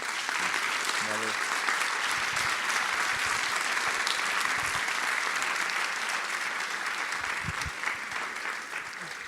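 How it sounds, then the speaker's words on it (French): An audience applauds at the Prix Valery Larbaud award ceremony in Vichy, a dense, sustained wash of clapping that fills the room and runs steadily for about nine seconds. "on peut vous applaudir"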